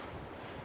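Spring water trickling straight out of the ground outdoors, a steady close wash of running water with a soft, even texture and no voices.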